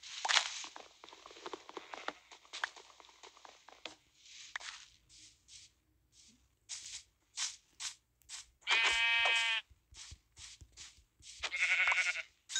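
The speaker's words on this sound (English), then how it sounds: "Get that sheep, I guess." Sheep bleating in Minecraft Pocket Edition, two distinct drawn-out bleats standing out among soft game footsteps and small clicks, fairly close, with no talking.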